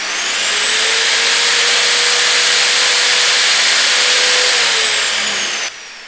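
A Bosch GTS 635-216 table saw runs at a steady high whine for several seconds, loud and close, then begins spinning down at the end.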